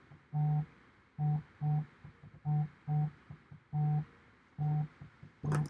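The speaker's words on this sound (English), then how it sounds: "now my phone is going to ring" A phone rings with eight short, evenly spaced electronic tone bursts, each a steady buzzing beep separated by brief gaps, clear and moderately loud, with no talking over it.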